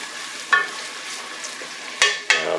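Garlic sautéing in a pan, a soft steady sizzle punctuated by three sharp scraping stirs, one early and two close together near the end, heard close with no speech.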